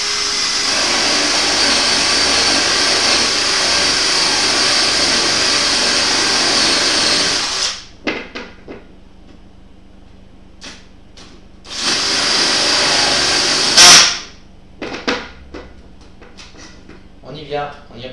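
A power drill whirs loudly and steadily as it bores through a stapled wooden plank, stops, then runs again in a shorter burst, with speech and clattering in the pauses.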